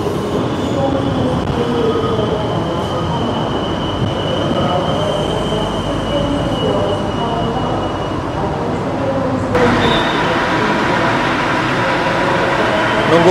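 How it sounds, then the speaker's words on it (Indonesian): A Sindro commuter train pulls into a station platform, a loud steady rumble of wheels on rail with a thin high squeal running through it and a sharper burst of noise near the end. "Dari jalur 2 segera masuk kereta komuter Sindro."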